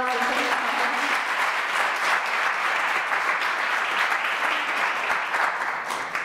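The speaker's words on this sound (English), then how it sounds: "I just want to give them a round of applause" An audience gives a sustained round of applause, dense, steady clapping from many people that stays loud throughout, with a brief voice at the start.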